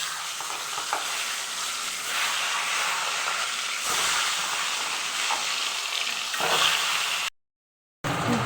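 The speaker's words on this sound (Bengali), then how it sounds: "এখন আমি হলুদ লবণ মেখে আমি এখন ডিমগুলো ভেজে নেব" Eggs coated in turmeric and salt sizzle steadily in a hot wok. The loud, dense crackle and hiss holds for about seven seconds, then cuts off briefly near the end.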